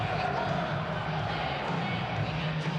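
A big football crowd fills the Norwich City stadium on a chilly Norfolk afternoon for the visit of West Brom, giving off a steady, dense roar and murmur that runs unbroken and fairly loud throughout.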